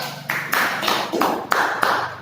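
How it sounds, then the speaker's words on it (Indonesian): Classmates in a school classroom clap for a group, several sharp, evenly spaced bursts of hand claps in a short rhythmic pattern, close and fairly loud with no voices. "Tepuk tangan buat kelompok 1."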